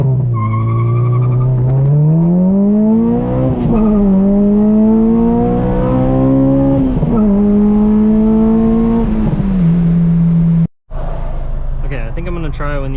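An Acura RSX Type S engine revs up and holds a steady climbing drone, with pitch rising through several gear-like steps before a brief cutout, then idling again; loud and close, from inside the car.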